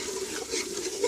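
Lentil cooking water pours and splashes steadily into a pot, a continuous liquid rush at moderate volume with no voices.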